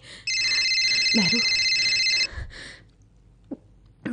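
An old-style telephone bell rings inside a home in one long continuous burst, then stops; afterward a few brief, faint sounds and a short spoken word follow in the quiet.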